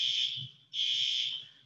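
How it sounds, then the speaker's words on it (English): Building fire alarm sounding during a test: a shrill electronic tone blaring in two long bursts with a brief gap between them, heard from a distance in a quiet lecture room. "We're testing the fire alarm."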